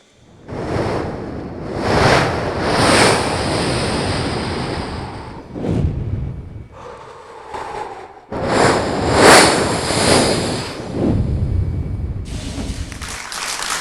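A human voice mimics sea waves, rushing and washing in repeated broad surges, loud and close, each swell hissing up then fading before the next rolls in.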